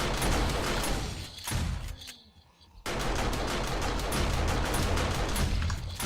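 An auto turret and a shotgun turret firing at zombies in 7 Days to Die, Alpha 16: dense, continuous rapid gunfire, loud and close, broken by one brief lull before resuming at full intensity.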